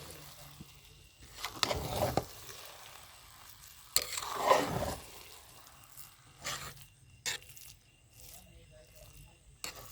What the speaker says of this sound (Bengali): দিয়ে দেবো 2 চামচ মতন ঘি, দিয়ে ভালোভাবে মিশিয়ে